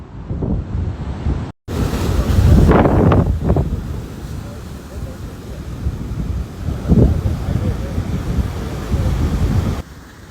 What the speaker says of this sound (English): the Outer Banks face strong waves churned by a hurricane